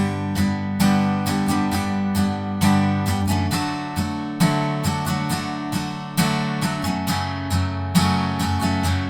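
Acoustic guitar strums the chorus of a song in a steady pattern of down and up strokes, chords ringing full and close, with a brief pause in the rhythm midway.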